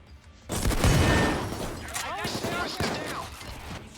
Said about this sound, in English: If you use the trip mines well enough, you can expect to be hearing a lot of this